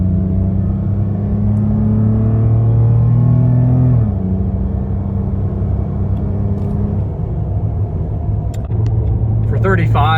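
A 2022 Nissan Frontier pickup's engine runs at about half throttle, a loud close rumbling drone whose pitch climbs steadily, then drops sharply as it shifts and begins to rise again, with a voice speaking over it.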